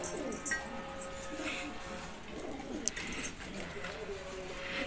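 Soft, low pigeon cooing repeats against a faint ambient background, with a brief sharp click partway through.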